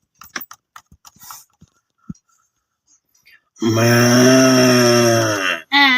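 A hungry cow lows loudly and close by in a poor farming family's village setting, one long drawn-out moo following some scattered clicks and knocks, with no talk during the call.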